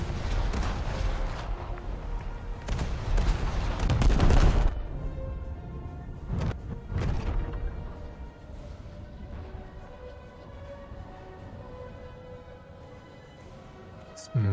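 Naval cannon fire from British cruisers and other warships in a naval combat video game, heard as a few booming shots around the four- to seven-second mark. The blasts stand out over a steady mechanical and ambient game background, with no talk.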